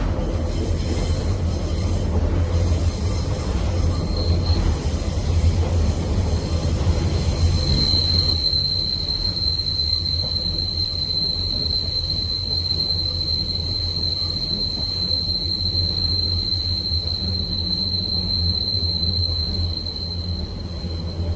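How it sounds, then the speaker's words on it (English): A British Rail Pacer train's wheels squeal on a tight curve, a piercing sustained high-pitched whine emerging over loud rumbling rail noise and lasting to the end. "There was the characteristic wheel squeal on tighter curves."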